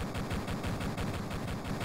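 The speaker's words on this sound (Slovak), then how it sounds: "Počujem strieľa" Rapid gunfire in the video game Duke Nukem 3D during a multiplayer match with bots, a dense run of repeated shots in a steady rhythm, loud and continuous without pause.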